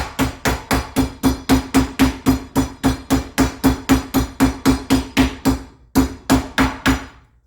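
Flat face of a meat mallet pounds a loin under plastic wrap for schnitzel, striking roughly three times per second in a steady run of about twenty loud, close thuds, with a brief pause before the last few blows and no talking.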